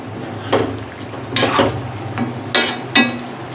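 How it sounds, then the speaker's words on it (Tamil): Chicken dry roast being stirred in a pan, with several distinct scraping strokes over a soft steady sizzle, close and fairly loud. "எல்லாத்தையும் மிக்ஸ் பண்ணி விட்டாச்சு."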